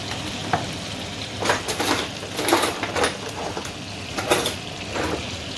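Polenta frying in melted butter, a steady crackling sizzle with intermittent scraping bursts from a utensil moving in the pan, close and fairly loud.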